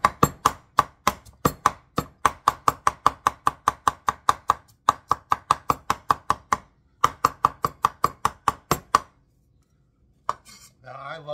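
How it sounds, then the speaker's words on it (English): Knife chopping garlic and scallion on a cutting board for Cantonese beef chow fun, a steady run of sharp, close, rapid strokes with brief pauses, then stopping near the end, with no talk. "then basically just chop it up."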